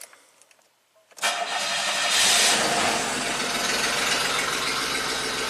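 A 1990 Buick Regal V6 suffering from severe low power cranks briefly and catches, then settles into a steady, loud idle that continues close and uninterrupted.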